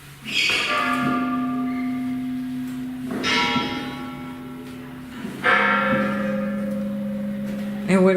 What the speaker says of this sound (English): And these are the 3 bells.